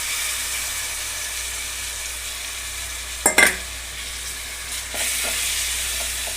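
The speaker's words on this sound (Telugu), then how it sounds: "ఇది మన ఫ్రెష్ చికెన్ వేస్తున్నాము." Fresh chicken pieces hit a hot pan already holding turmeric, chili powder and coriander, setting off a steady, close sizzle with a brief clatter of stirring midway; no one speaks.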